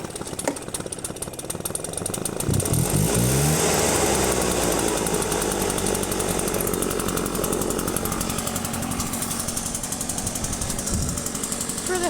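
Several Husqvarna power tool engines cold-started and running together, a loud, dense two-stroke clatter that sputters to life and then holds steady and continuous, close by.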